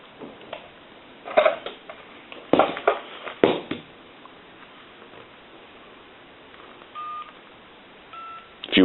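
Keypad dialing tones from a Conair SW2504 art deco style desk telephone sound in short, loud, irregular bursts, followed by a few steadier beeps, close and clear over a faint background hiss.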